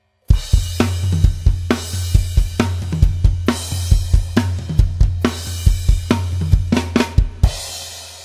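A drum kit plays the closing bars of a song, with a steady driving pattern of sharp cymbal-and-snare hits over a low sustained tone, loud and close, repeating in even phrases with no talking.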